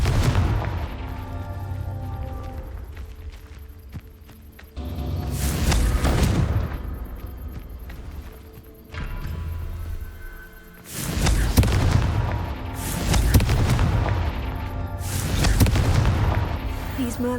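Confringo blasting spells explode in the Hogwarts Legacy video game, producing several loud booming blasts in bursts with rumbling tails between quieter stretches of ambient game sound.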